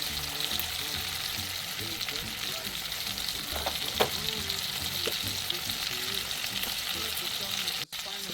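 A sous vide steak searing in a hot pan on an Instant Pot, giving a steady close hiss of sizzling fat that runs evenly throughout, with a couple of small pops and a brief knock near the end.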